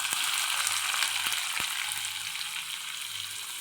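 Chopped onions hit hot oil with mustard seeds and cumin in a pan, giving a loud, steady sizzle with a few sharp pops, and no talking.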